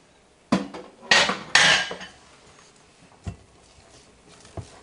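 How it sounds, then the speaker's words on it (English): Spoon or whisk scraping and clattering in a bowl while wet ingredients are stirred into dry for brownie batter, with a few loud bursts early on and lighter taps later, no talking. "Now I'm going to mix the wet stuff into the dry bowl and get my brownie batter all mixed together"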